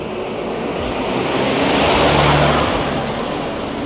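A bus climbs a steep hill in Medellín, its engine droning steadily and swelling louder midway as it labors upward, with no talk.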